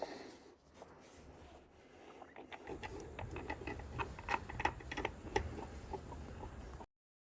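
Screws being driven into the cup holder of a Land Rover Defender cubby box, a run of close, sharp ticking and ratcheting clicks over a low mechanical rumble, stopping abruptly at the end.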